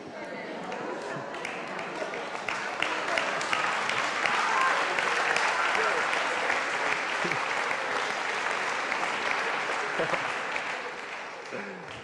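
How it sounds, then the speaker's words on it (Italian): A television game show studio audience on Affari Tuoi breaks into sustained applause, dense clapping rising to a peak midway and tapering off, with voices audible over it. "anche alla fine c'era l'applauso"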